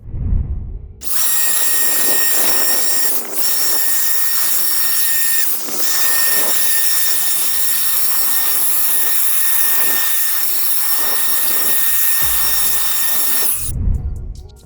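A loud, steady motorized whine with a high pitched tone from a 56V battery leaf blower clearing leaves runs almost continuously for about twelve seconds, briefly dipping twice, then cuts off.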